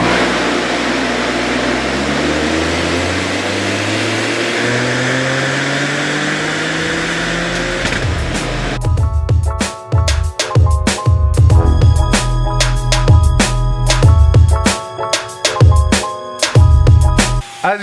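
Stock 2024 Toyota GR Corolla with a 3-cylinder engine on a dyno, first a long loud rising full-throttle pull, then a series of sharp blips and revs with abrupt cutoffs, heard close and without talk.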